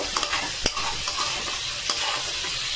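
Chicken frying in a pan is stirred, with scraping spatula strokes and light clatter over a steady soft sizzle, close and alone.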